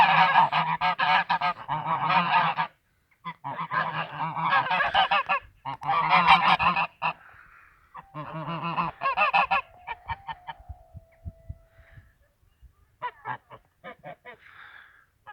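Geese honk loudly and repeatedly in bursts of harsh calls, close by, with a few quieter scattered honks and brief gaps between the flurries.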